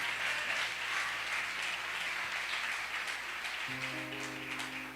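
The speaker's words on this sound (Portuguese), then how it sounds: "Aplauda Ele." Congregation applauding at a Brazilian evangelical church service, a steady dense wash of clapping from many hands that fills the whole stretch, with a sustained low organ or keyboard tone entering near the end.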